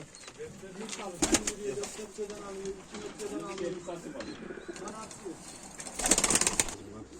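Pigeons coo softly in a low, repeating murmur, with a burst of wing flapping near the end; people talk in the background.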